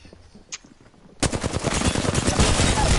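Rapid automatic gunfire in a shooter video game, which bursts in loud and sustained after a quiet second with a single faint shot, and continues as dense close bursts to the end.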